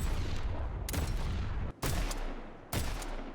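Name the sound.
two different revolvers firing in the video game Deadlock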